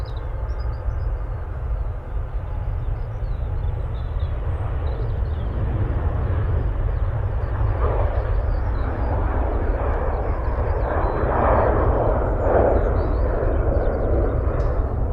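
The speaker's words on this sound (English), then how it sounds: "This Jet 2 just taking off." A Jet2 airliner takes off at Manchester Airport, its engines giving a steady, loud roar with deep low rumble that holds throughout, swelling slightly toward the end.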